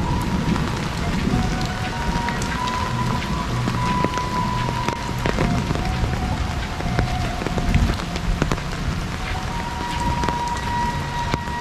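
Heavy rain easing off over a quiet countryside village with spread-out houses, a steady dense patter on surfaces with scattered sharper drops, continuous and fairly close throughout.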